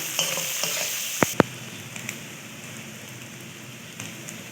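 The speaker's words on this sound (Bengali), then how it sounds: "দিয়ে দিলাম কিছুটা পরিমাণে কুচনো পেঁয়াজ। এবার এটাকে আমি হালকা করে ভেজে নেব।" Chopped onions fry in hot oil in a pan, giving a close, even sizzle with two sharp knocks from a utensil near the start.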